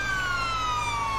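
An emergency vehicle siren in the FiveM game wails with a steady, rising tone over a low engine hum, heard clearly for a moment.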